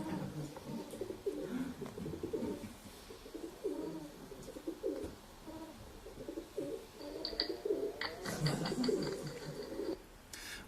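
Pigeons coo repeatedly in soft, throaty bursts at close range, with a few higher chirps and flutters near the end.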